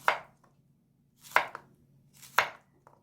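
A knife chops a quarter onion on a cutting board for Korean soybean paste stew. Three distinct, firm chops land about a second apart, each followed by a softer tap, close and clear with no talking.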